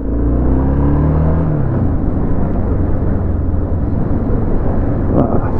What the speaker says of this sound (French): 125, une Suzuki 125.